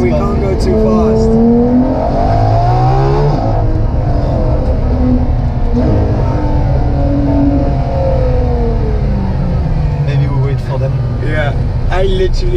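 Ferrari LaFerrari engine on a bumpy rally road, its loud roar rising and falling through repeated revs and gear shifts, close up throughout, with voices talking over it.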